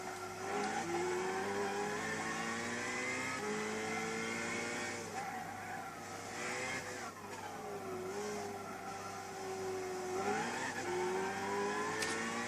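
Race car engine in Gran Turismo 6 at Bathurst during an online race, revving up and dropping with each short shift, steady and loud throughout, with some tyre squeal and no talk.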